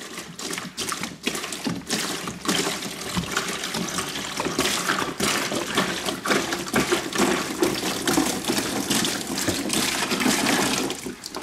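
Water pours steadily from a gallon jug into a container while an incubator is set up, a close, continuous splashing gush that keeps up throughout.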